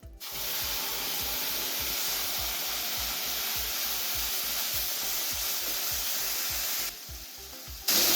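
Tomato gravy poured into golden roasted gram flour in a pan for lauki kofta curry sizzles in a loud, steady hiss, with a regular low thumping underneath, before it briefly drops and swells again at the end.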